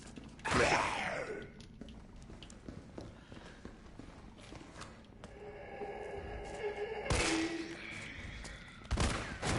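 Gunshots in Resident Evil 3 come as a few sharp, sudden bangs spaced several seconds apart over a quiet backdrop of footsteps and low ambient hum.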